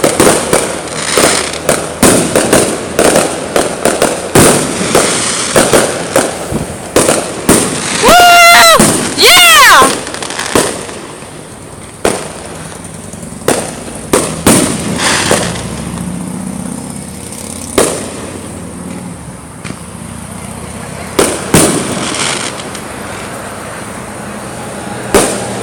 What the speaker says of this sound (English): Oh, there's some fireworks going over there off in the distance.